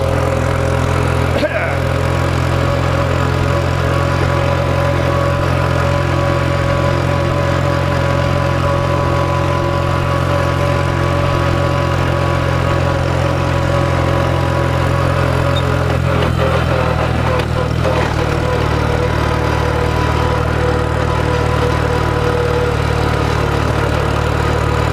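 A tractor engine drones loudly and continuously while mowing, with a steady low hum and whine, a brief knock early on and some rattling shifts later, and a voice faintly talking beneath.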